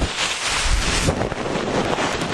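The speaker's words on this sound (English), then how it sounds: "It's a little windy." Steady wind roars and buffets the microphone, a continuous broadband rush with no voices, rising and falling slightly over a couple of seconds.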